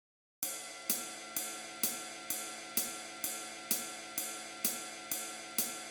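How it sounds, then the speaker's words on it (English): A ride cymbal and hi-hat ring out in an even, steady beat, each bright crash-like hit decaying before the next, about eleven strikes in a row with no talking. "he's just hitting the ride and the hi-hat,"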